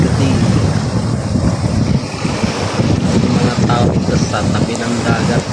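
Strong sea waves crash onto the shore in a continuous loud surging roar, with heavy wind buffeting the microphone throughout.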